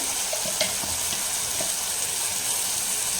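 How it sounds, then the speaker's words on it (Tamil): Ginger garlic paste frying in a pan, giving off a steady, dense sizzle with a few faint clinks of a utensil near the start. Nobody speaks. "இப்போ இந்த டைமில் இஞ்சி பூண்டு பேஸ்ட்டு கொஞ்சமாக சேர்த்துக்கிறேன்"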